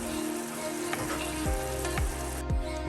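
Spices fry in a pan for wild catfish head soup, a loud close sizzle over a steady low hum, with a few scraping strokes and swooping tones repeating through the short stretch.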